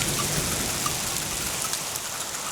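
Steady, loud rain pours down during a thunderstorm, a dense, even hiss of drops hitting surfaces with no break across the short stretch.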